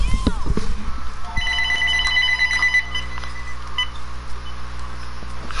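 A phone ringing with repeated electronic tones in the middle of a video game session, heard close and steady under game sounds and a talking player.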